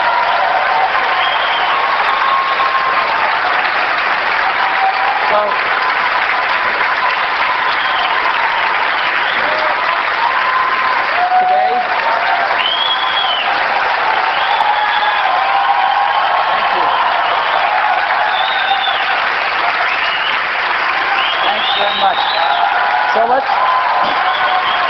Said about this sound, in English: It's a lot of applause when you guys do all the work.